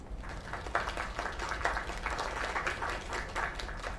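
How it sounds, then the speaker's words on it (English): A video game crowd at an open mic night claps steadily, a dense wash of applause that carries on evenly, with a low hum underneath. "Another round of applause."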